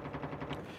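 Quick rapid-fire gunshots from the Call of Duty Mobile battle royale game, a short, fairly faint rattling burst of several evenly spaced shots with no talking.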